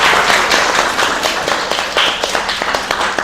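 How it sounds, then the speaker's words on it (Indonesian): A class of schoolchildren claps together in a room, a steady wash of mixed applause lasting throughout, loud and close, with individual claps standing out toward the end. "Tepuk tangan semuanya."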